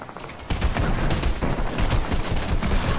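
Gunfire in the video game Fortnite crackles in dense rapid volleys after a brief quiet start, loud and near, with sniper fire mixed into a sustained firefight during a laggy match.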